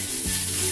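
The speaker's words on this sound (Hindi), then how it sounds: "अब इसमें ऐड करेंगे फाइन चॉप किया हुआ प्याज, और प्याज को भून लेंगे जब तक कि ये गोल्डन नहीं हो जाता" Finely chopped onions frying in a pan for a jackfruit do pyaza curry, giving a steady close sizzle with a brief soft stir partway through and no talking.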